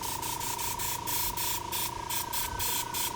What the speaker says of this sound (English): So now I'm going to spray in the red.